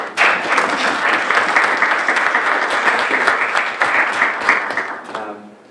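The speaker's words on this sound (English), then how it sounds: "I would like to give a round of applause for her to be here with us today" Audience applause at a youth climate action event, a loud, dense burst of clapping that starts abruptly, holds steady for about five seconds, then fades out.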